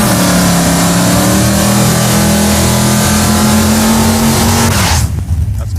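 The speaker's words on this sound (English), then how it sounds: "That's good burnout." A car does a loud, close burnout, its engine held at a high, steady rev for about five seconds before dropping off abruptly, with tire roar underneath.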